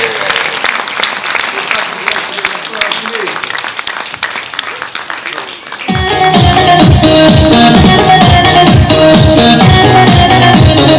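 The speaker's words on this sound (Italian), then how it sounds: "Applausi per la signora Teresa di Marcianise!" Audience applause for a caller at a live comedy stage show in Italy; the first half is busy and mixed, then loud music with a strong beat takes over, clearly masking the clapping.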